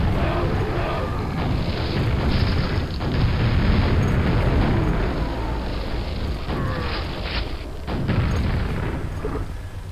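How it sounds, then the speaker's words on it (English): Rocket launcher blasts in a Doom map, Contract Revoked, rumble as a dense, continuous wall of booming explosions and roaring gameplay noise for the full stretch, loud and without pause. "Oh, also a rocket launcher"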